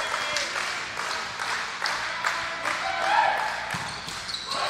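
A volleyball crowd cheers and applauds at an all-star match, a loud, sustained wash of clapping and cheering with rhythmic claps rising toward the end, and commentators can be heard talking over it.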